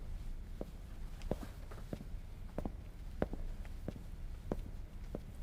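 Footsteps picked up by a professional microphone placed close to the performer at a live awards-show stage, a soft, irregular series of light taps over steady background hiss and room noise.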